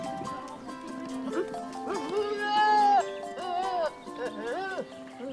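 Miniature goats in a Provence herd bleat several times during rutting season, loud, wavering calls close by that overlap one another.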